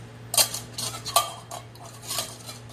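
A spoon stirs agave into a lemon cocktail, with several clinking taps against the glass or metal, some sharp and close, over a steady low hum.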